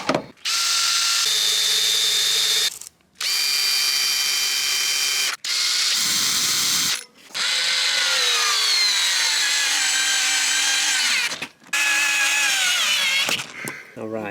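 A power drill bores holes into a metal LPG filler plate for a camper conversion, loud whining runs in several bursts separated by short pauses, the motor pitch shifting as it cuts.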